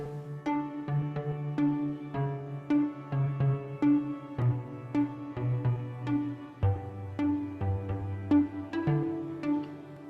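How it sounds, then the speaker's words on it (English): Harp and pluck synth chords programmed in Logic Pro X, in a remake: steady plucked chord strikes repeating in a moderate rhythm over sustained low notes, continuous and clear with no talking. "And the pluck sounds, it sounds like this."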